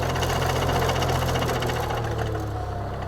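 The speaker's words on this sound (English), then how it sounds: "I'm going to start my plow. I'll idle up to wherever I want." A Vermeer PTX40 plow/trencher engine revs up from idle, a loud, continuous rumbling drone with a dense mechanical rattle that stays strong throughout.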